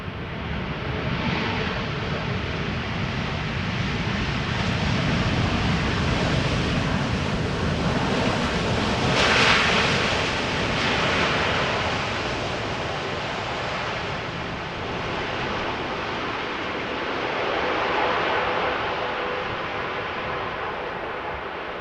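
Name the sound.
KLM Boeing 787 Dreamliner landing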